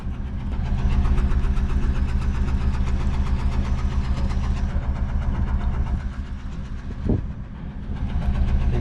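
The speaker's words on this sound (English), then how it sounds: "Exhaust is just purring away." A worn Ford Crown Victoria idles with a steady, loud low exhaust rumble, a continuous close-up drone with a brief knock near the end.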